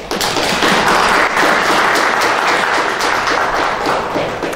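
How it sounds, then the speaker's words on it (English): Applause from a lecture audience at a university media talk, a dense steady wash of many hands clapping at full strength from start to finish, close and loud, with no voices breaking through. "once we can do a big clap"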